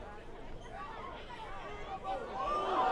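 Crowd at a 2023 college lacrosse game between Loyola and Duke reacting to a spin move, a steady murmur of chatter and babble that swells louder toward the end.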